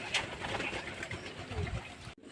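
A pigeon suffering from green diarrhoea coos softly and briefly, faint and low over a quiet, noisy background with no talking.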